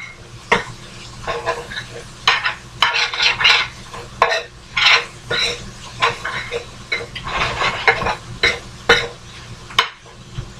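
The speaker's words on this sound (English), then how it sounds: "Keep it stirred up. We don't want anything to stick." Southern collard greens frying in a pan with no water are stirred, giving a constant sizzle with frequent loud scraping strokes and clatter of the utensil against the pan, close up.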